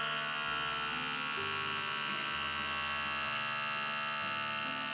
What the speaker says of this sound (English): It will pre-soak for 2 seconds, then it should stop to pre-infuse the coffee. and then it should start extracting.